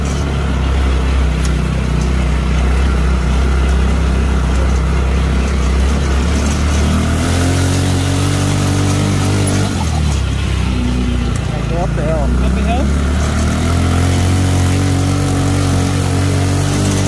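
A go-kart engine with performance upgrades revs and drones while driving around a grassy yard, loud and close, with shifting engine pitch and voices talking over it.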